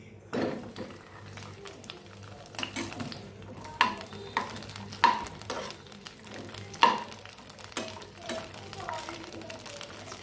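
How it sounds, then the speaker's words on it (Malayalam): Brinjal fries in hot oil in a pan, giving a low steady sizzle broken by repeated scraping stirs and occasional sharp clinks of a utensil against the pan, close and fairly quiet. "ചൂടായ പാനിലേക്ക് ഓയിൽ ഒഴിച്ച് നമുക്ക് വഴുതനങ്ങ ഒന്ന് ഫ്രൈ ചെയ്തെടുക്കാം."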